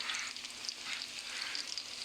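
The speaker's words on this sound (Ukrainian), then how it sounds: "Смажиться." Cauliflower sizzles and crackles steadily as it fries in a hot pan, a soft continuous frying hiss heard up close.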